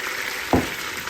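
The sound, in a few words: meat juice poured over searing ribs, sizzling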